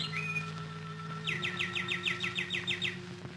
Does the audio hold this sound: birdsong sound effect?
yes